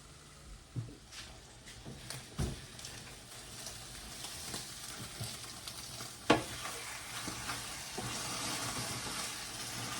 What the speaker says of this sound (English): So this beef is releasing a lot of its own juice.